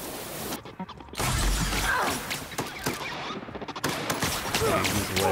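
Rapid gunfire in The Outer Worlds rattles loud and close in a near-constant barrage of shots and impacts, broken by a brief pause near the start.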